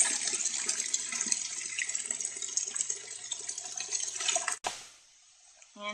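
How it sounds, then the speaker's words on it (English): Water runs steadily into a vessel of spread brewing grains for home brewing, a continuous splashing pour under no talk that stops abruptly near the end, leaving near silence. "now we're going to add water to bring it up a couple inches above the grains."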